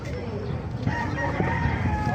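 A gamefowl rooster crows at a busy poultry market in Bocaue, Bulacan, one drawn-out call standing out over the surrounding clucking and crowd noise, with someone talking close by.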